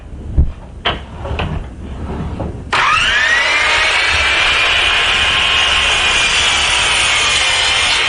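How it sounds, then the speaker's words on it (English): A wooden board for a wall shelf, clamped against a fence, is cut with a saw: a few knocks and handling clunks, then the motor whirs up abruptly into a loud, steady, high whine that holds to the end, with no talking. "So I'm going to bring the saw down to make sure I got about what I need."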